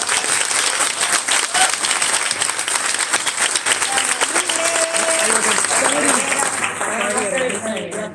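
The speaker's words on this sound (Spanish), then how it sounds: "Recibimos con un fuerte aplauso a Gabriela Carpinati" An audience claps in sustained, loud applause welcoming Gabriela Carpinati at a legislative proposals presentation, the clapping steady and dense throughout with a few voices mixed in.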